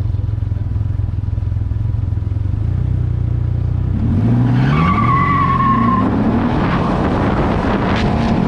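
Can-Am Ryker three-wheeler launching at a quarter-mile drag race, engine rising through revs with a brief tire-spin squeal and chirp mid-launch over steady wind rush.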